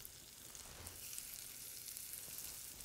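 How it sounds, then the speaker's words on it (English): Shallots sautéing in rendered bacon fat, a soft steady sizzle with fine crackle throughout, fairly quiet and close, no talking. "we're going to saute off our shallots with that"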